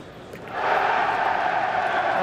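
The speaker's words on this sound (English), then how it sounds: "The cheer goes up." A crowd's cheer swells up at the Mosconi Cup pool match between Team Europe and Team USA, rising suddenly from a murmur into a sustained, loud roar from the arena audience.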